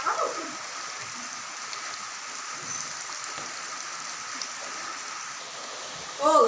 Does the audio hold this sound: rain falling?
yes